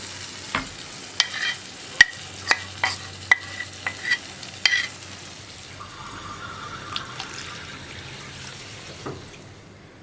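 Spoon stirring a pan of ground coconut masala for cauliflower curry as water is poured in, giving irregular sharp scrapes and clinks over a soft sizzle and water splash.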